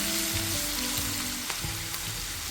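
Ginger, green chilli and garlic paste sautéing in hot oil with bay leaf and dried red chilli, giving a steady close sizzle broken by a few faint spoon taps.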